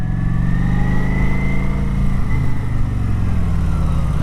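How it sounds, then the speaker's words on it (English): A motorcycle engine throttles out of a corner during riding practice, a loud, close drone whose pitch climbs steadily as the rider rolls on the throttle, with no talk. "as I go around the corner, as I am releasing the brake, I'm slowly applying the throttle, and I throttle out"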